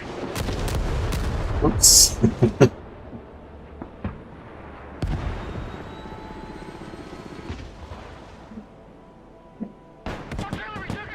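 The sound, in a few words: artillery fire in Broken Arrow video game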